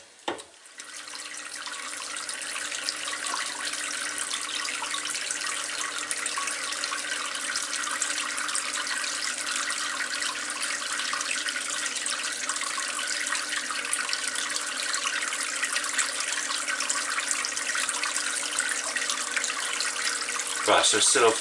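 Brewing wort recirculates through a HERMS setup on a home brew day, producing a steady, close, continuous rush of flowing liquid from start to finish, with a brief spoken remark at the start.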